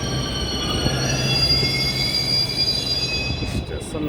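A Delhi Metro train at a station: a steady, loud rumble of rolling carriages with a high, sustained wheel squeal running throughout, close by.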